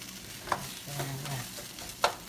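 Shrimp and crab fried rice, made with cold rice, sizzling in a small wok: a steady close fry under a couple of sharp scraping stirs from the utensil.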